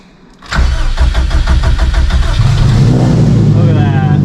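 A stock-engine Subaru STI cranks briefly and fires up, then settles into a loud, close, rumbling idle that stays steady to the end.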